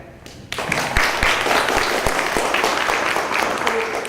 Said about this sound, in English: Can we give him a clap?